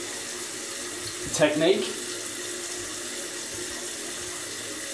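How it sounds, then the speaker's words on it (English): Tap water splashes briefly into a sink while alum is rinsed off after a shave, a short rushing burst standing out over a steady background hiss. "Gonna rinse off the alum."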